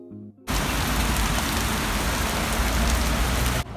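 Steady heavy rain in Kangemi pours down in a dense, even hiss that starts abruptly and runs loud and constant, with no voices over it.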